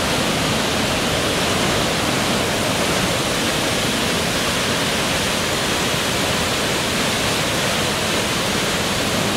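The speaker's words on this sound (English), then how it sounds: "This is how loud these falls are." Blackwater Falls in West Virginia roars as a steady, dense rush of falling water, loud and close, an unbroken broadband wash with no talking.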